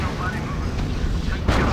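Heavy artillery fire in the World War II strategy game R.U.S.E., a dense rumbling barrage of low booms filling the short stretch, with a sharper blast near the end.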